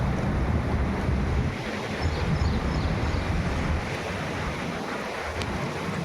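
Floodwater rushes out through nine opened gates of an overflowing dam in Rajkot district during heavy rain, a continuous loud broadband roar with wind-like noise and no pauses.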